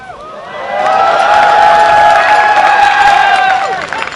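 A large audience at an MLG Providence esports finals cheers and whoops loudly, swelling after a brief lead-in and holding steady before easing off at the end.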